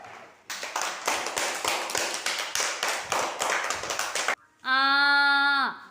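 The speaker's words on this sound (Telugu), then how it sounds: "వాణి క్లాప్స్ కొట్టండి" Children in a classroom clap in a brisk, steady burst of about four seconds, the hand claps loud and close and evenly spaced, followed by a sustained sung or voiced tone from the group.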